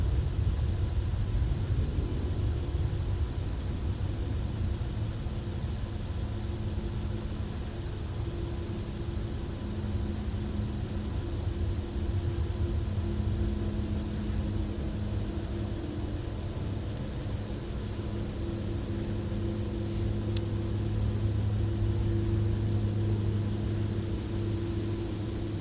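Airliner taking off at MSP airport in winter, a steady, distant engine roar with a droning low hum that slowly shifts in pitch and holds throughout.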